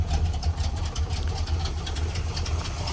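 A 1968 Pontiac GTO with the 360 hp HO 400 cubic-inch V8 and four-speed idles smoothly, a steady low rumble with an even, lumpy pulse throughout.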